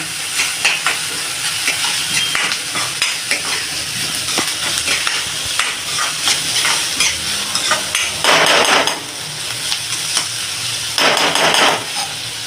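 Momo filling sizzles hard on a high gas flame as it fries until reddish, a loud, dense hiss with scraping stirs against the pan and two brief surges of louder spitting; no talk.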